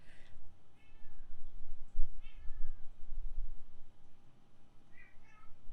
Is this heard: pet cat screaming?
yes